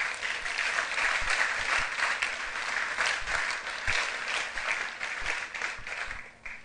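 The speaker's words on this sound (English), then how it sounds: "I think you ought to give that a round of applause." Sustained audience applause at a university honors colloquium, a diversity education event in New England higher education, dense and steady for several seconds before tapering off at the end.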